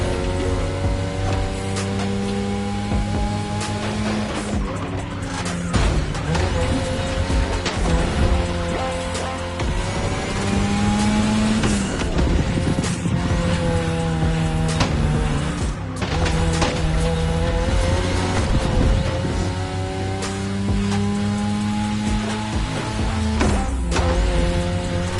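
Cars racing in The Crew video game: loud, continuous engine roar with pitch rising and falling through gear shifts, plus occasional tire squeals, and no voices over it.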